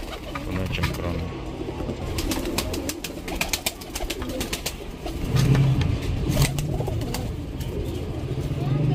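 Pigeons coo softly in low, rolling calls at a pigeon-flying event, with faint chirps and a background hum; someone talks over the birds throughout.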